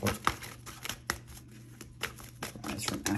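Tarot cards being shuffled close up, a soft riffling and flicking with irregular snaps over a low steady hum.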